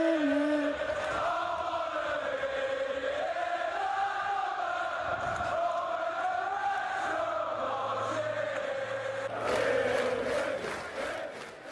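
A Stoke City football crowd chants in unison, a sustained sung melody rising and falling from a large stadium crowd that swells louder near the end.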